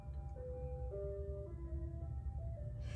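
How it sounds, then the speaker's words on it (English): Ice cream truck chimes play a bright, stepping melody as the truck passes, with a steady low rumble of traffic underneath and no talking. "The ice cream truck is passing."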